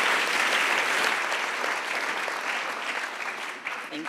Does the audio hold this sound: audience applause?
yes